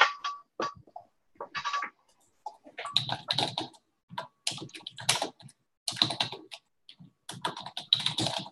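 Fingers type steadily on a computer keyboard, close and crisp, in irregular bursts of rapid clacking with short pauses between, growing denser and louder after the first couple of seconds, with no talking.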